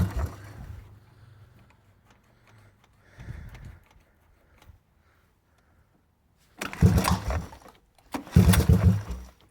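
Honda 185S motorcycle with a swapped-in 200cc Chinese 12:1 piston and the choke on. After quiet, faint rustling, the engine catches and revs loudly in two rough bursts close by.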